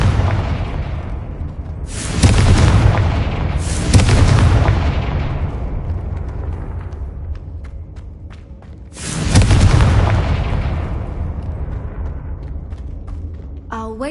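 Confringo fire spell explosions in Hogwarts Legacy: three heavy, booming blasts with crackling hiss, the first two close together near the start and a third after a pause, each decaying into a rumbling tail.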